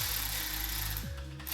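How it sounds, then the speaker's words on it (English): A small ratchet tightens a bolt during the teardown and rebuild of a BMW E36 M3 S52 engine, producing close rapid clicking pawl sounds in a short mechanical burst. "ratchet."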